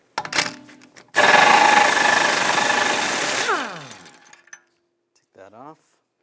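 A socket on a power tool spins off the rear CV axle nut of a 2009–2017 Volkswagen Tiguan 2.0L, with a few light clinks, then a loud two-second whirring, rattling burst that winds down, followed by faint handling noises.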